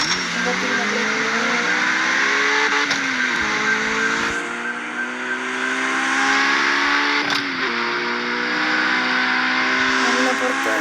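Z37 car in the street-racing game CarX Street, its engine note climbing steadily through several gear shifts, then dropping under braking, loud and continuous, with someone talking over it throughout.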